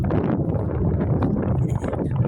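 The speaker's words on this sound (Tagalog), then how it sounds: "Lakas sa hangin." Strong hot wind buffets the microphone outdoors in a steady, rough low roar that fills the whole stretch at close range, with no clear talk over it.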